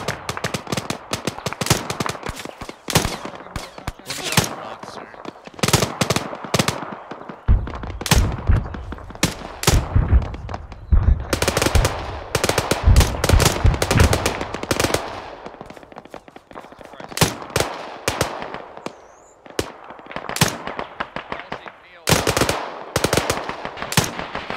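Machine gun fire crackles through an ArmA 3 battle, long loud bursts and rapid rattling volleys from several weapons, with heavier booms in the middle and brief gaps between strings of shots.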